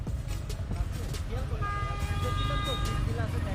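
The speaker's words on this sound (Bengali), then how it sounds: "হর্ন দিতেছি তারপরে শুনতেছে না" A motorbike horn blares in one sustained blast over rumbling engine noise, with people talking nearby.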